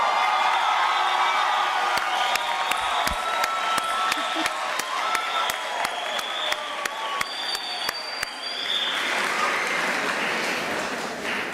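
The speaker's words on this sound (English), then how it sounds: "Can we give them a round of applause, ladies and gentlemen?" A university graduation ceremony audience gives a long, dense round of applause for the graduating classes of 2023 and 2024, with scattered whoops and cheers rising over steady clapping that fills a large hall.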